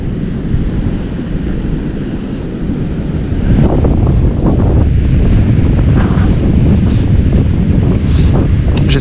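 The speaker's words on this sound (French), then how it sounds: "J'espère que vous allez bien m'entendre parce qu'il y a du vent." Strong winter wind buffets the microphone with a constant low roar, growing rougher partway through, with faint water sounds beneath.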